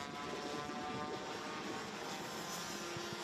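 Rotax DD2 racing karts at a Winter Cup pre-final race, one with a loud, noisy exhaust, give a steady broadband engine roar with a tonal drone, continuous and fairly distant, with no talk.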